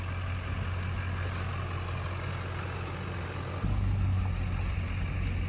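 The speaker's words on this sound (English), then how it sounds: "We'll see how this Duramax pulls." Duramax diesel pickup truck hauling a loaded trailer, a steady low engine drone close by that steps up louder near the end as it pulls, no talking.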